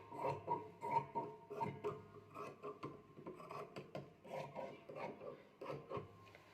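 Scissors cut through leftover blouse fabric during tailoring, giving a steady run of close, crisp snipping and rasping strokes at an even moderate level with no talking.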